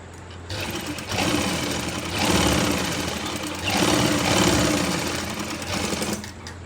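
A sewing machine runs steadily as it double-stitches a seam on plazo pant fabric, a dense close mechanical whir that surges louder in two long bursts before slowing near the end.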